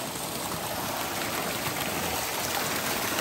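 Spring water splashes steadily from three spouts fed by a single mountain source, a constant soft hiss of falling water with no one speaking.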